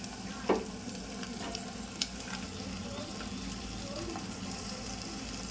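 Brinjal, potato and tomato curry fries quietly in a pan with a premixed spice blend of chilli and salt, a soft steady sizzle with a couple of clinks and stirs and faint voices in the background.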